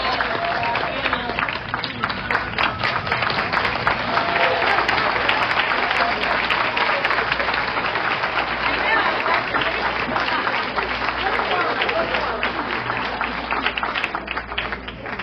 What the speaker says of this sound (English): Let's give a standing round of applause for our panel